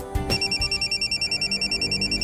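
A telephone rings for an incoming call with a rapid, even pulsing trill that stays steady and fairly loud throughout the brief moment, with no voices.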